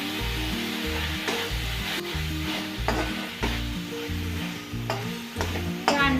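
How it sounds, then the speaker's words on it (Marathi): Spice paste for egg curry sizzles in a pan while a spoon stirs it in regular scraping strokes, the frying loud and close with no voices. "पेस्ट पण व्यवस्थित परतून घेऊया त्याच्यामध्ये।"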